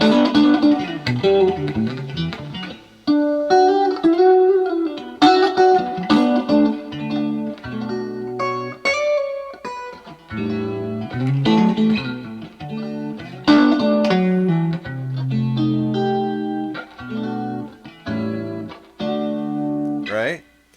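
Clean Stratocaster-style electric guitar notes and chords played through a Peavey amp with a bright, glassy tone, phrases starting and stopping, with a voice talking between some of them.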